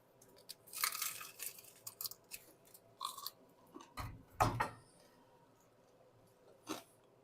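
Close, wet chewing of a bite of chewy Christmas ham, with irregular crunchy bites and mouth sounds, a couple of louder munches near the middle, and no talking.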